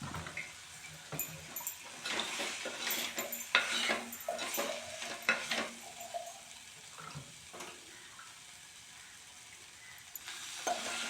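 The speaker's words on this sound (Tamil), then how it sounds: "போட்டு நல்லா வதக்கி எடுத்துக்கலாங்க" Masala powder sautéing in a pan for beetroot gravy, a soft sizzle with scraping stir strokes and light clinks of a utensil against the pan, steady and close, no one talking.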